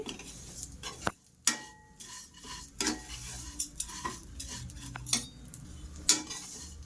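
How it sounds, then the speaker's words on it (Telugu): Vermicelli roasted in a pan over a medium flame, a spoon scraping and clinking against the metal amid a light sizzle, irregular and fairly quiet. "ఈ సేమియా అనేది మీడియం ఫ్లేమ్లో పెట్టుకుని వేయించుకుంటూ ఉండాలి"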